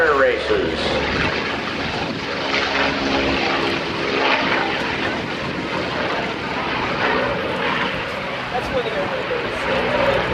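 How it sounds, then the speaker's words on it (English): A Yak-9 warbird fitted with a 12-cylinder Allison engine, a Reno Air Races machine, flies at the 2009 Dover AFB airshow. Its piston engine roar drones steadily and fluctuates as it passes, heard at a distance over open-air ambience. "And the Yak-9, a 12-cylinder Allison engine, straight from the Reno Air Races."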